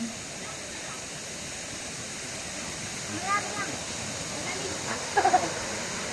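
Waterfall at a resort in Majayjay, Laguna, a steady broadband rush of falling water filling the whole clip at an even level, with a few brief louder splashes or voices near the end.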